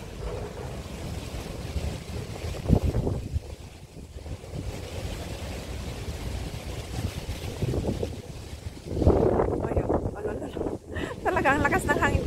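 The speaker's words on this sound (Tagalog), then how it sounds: "Naririnig ang ugong ng hangin." Strong wind roars and buffets the microphone on a Hong Kong rooftop, a steady low rumble with louder gusts surging around the third and ninth seconds, while people speak faintly beneath it.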